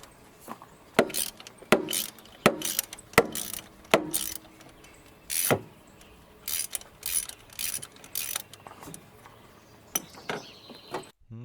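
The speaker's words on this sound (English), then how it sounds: "now we'll remove the last spark plug from the engine." A wrench ratchets out the last spark plug of a 4-cylinder car engine: sharp, evenly spaced metallic clicks in bursts, close up, with a few pauses and a light metal clink near the end.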